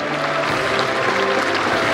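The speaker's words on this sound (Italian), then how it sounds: "accolto dagli applausi" A festive crowd claps steadily and loudly at the solemn procession of the San Michele Arcangelo statue in Solofra, a dense, continuous applause with a few faint voices mixed in.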